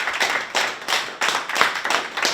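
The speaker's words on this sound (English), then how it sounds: "everybody in the audience, let's give him a big round of applause" A small meeting audience of Citizens For Milford claps for a guest, a few pairs of hands giving brief, fairly close rhythmic clapping with audible individual claps rather than a large crowd.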